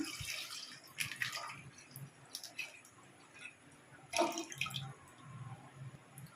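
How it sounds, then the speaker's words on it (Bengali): Water poured into a pot of milk on a stove, two packets of milk already in the pot, giving a soft splashing, dripping pour in short bursts up close. "কিছুটা জল দিয়ে দিচ্ছি।"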